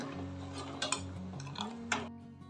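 A spoon stirs sugar into makhana kheer in a pot, making light scrapes and a few sharp metallic clinks against the pot over a soft steady hum.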